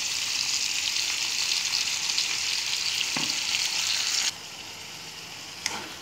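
Sliced bananas cook with sugar, MSG and salt in a hot pan, giving a loud steady sizzle with stirring scrapes that drops to a quieter fry partway through.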